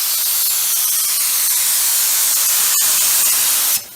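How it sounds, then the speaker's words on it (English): Spray gun laying down a wet coat of clear coat on a car during a peeling clear coat repair, a steady close hiss lasting nearly four seconds with a brief click near the end before it cuts off. "So let's spray some clear."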